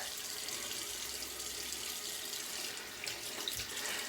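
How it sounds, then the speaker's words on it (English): Steady hiss of a running tap rinsing a razor at a sink during a wet shave with a Karve aluminum razor, continuous and fairly close with no talking. "Very quick rinse."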